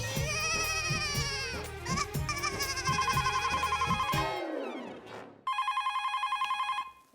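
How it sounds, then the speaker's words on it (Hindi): A telephone rings with a rapid trilling bell, loud and close, stopping briefly before ringing again in a short burst. "जरूर सुंदर का फोन होगा।"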